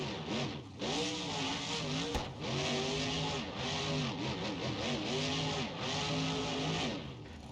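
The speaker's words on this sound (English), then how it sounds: "we also have brand new backfires. You heard it there a couple seconds ago." A monster truck engine in BeamNG.Drive revving hard with rising and falling harmonic tones, loud and continuous, one brief sharp crack near the middle that could be a backfire.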